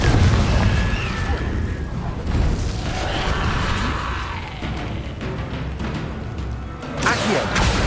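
The Confringo fire spell from Hogwarts Legacy going off as a loud, booming explosion with a deep rumbling body, followed by further impacts and crackling bursts in a hectic combat scene.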